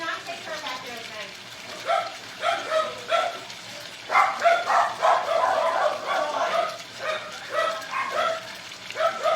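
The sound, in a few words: dogs barking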